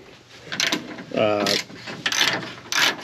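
Ratchet wrench loosening 10mm bolts on radiator split brackets while installing a water pump on an SVT Lightning, heard as close, rapid ratcheting clicks in several short bursts, with a brief voiced sound in between.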